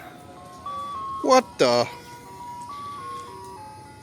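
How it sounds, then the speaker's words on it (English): Ice cream truck jingle plays a steady electronic melody throughout, moderately loud and nearby, with a brief burst of speech interrupting it in the middle. "Ice cream truck."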